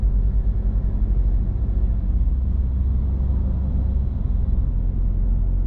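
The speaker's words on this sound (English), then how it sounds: "if you ever listen to the road noise, like we're going along slowly in traffic" Steady low rumbling road noise fills the cabin of a 2020 Mercedes X250D moving slowly in traffic, a constant muffled drone with no voices.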